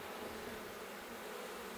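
Honeybees buzzing around an open hive whose colony is being checked for numbers, drones and eggs: a steady, dense drone of many wings close by, continuous and alone without talk.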